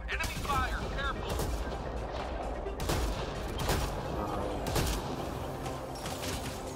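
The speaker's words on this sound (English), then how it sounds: "Enemy fire, careful!" Enemy gunfire in Mass Effect: Andromeda multiplayer combat: dense bursts of rapid shots and sharp cracks, with several louder reports standing out, continuing steadily under game effects and occasional voices.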